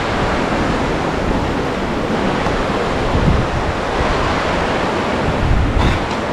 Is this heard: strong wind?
yes